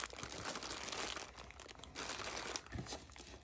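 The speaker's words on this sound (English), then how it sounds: "see if I can quickly and quietly move some of this paper." Paper being moved and crinkled, a quiet continuous rustling and crumpling close by with a few sharper crackles, no talking.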